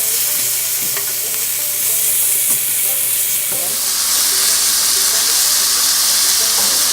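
Pork dropped into hot margarine with garlic, a loud, steady sizzle and hiss of frying that grows fuller after a few seconds, with occasional stirring knocks.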